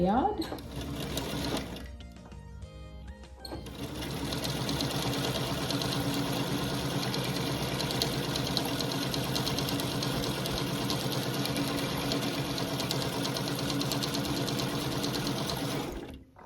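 A sewing machine stitching quilt pieces for a log cabin chip quilt, with a short burst, a brief pause, then a long unbroken run of rapid mechanical whirring and needle clatter, close and steady.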